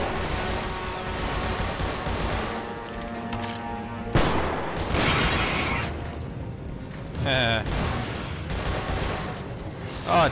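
Carbine gunfire in the shooter game Resistance 3, a string of loud blasts and sharp bursts over a droning, music-laden battle soundscape, with voices talking.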